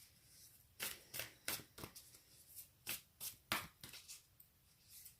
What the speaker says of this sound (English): let's see what we've got from the Angels and Ancestors cards